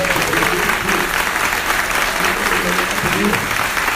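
An audience gives sustained applause for murdered rural workers during a speech at an economic strategy seminar, dense steady clapping filling the whole stretch, with a voice faintly underneath.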